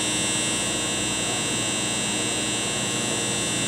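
A New Brunswick Bio Flo 4500 fermenter agitator runs at 100 RPM with a constant electric hum and a faint high whine, steady and unvarying.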